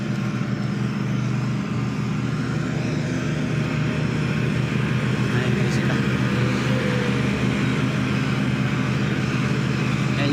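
Grass cutter engine droning steadily as gardeners work outdoors, a continuous mid-distance motor hum that holds through the whole stretch with no clear voices.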